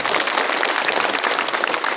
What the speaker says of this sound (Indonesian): Tepuk tangan dulu lah biar semuanya.